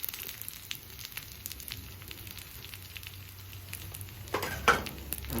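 Hash browns frying in butter on a flat top grill give a steady, soft sizzle and crackle close by, with a brief clatter of a utensil near the end.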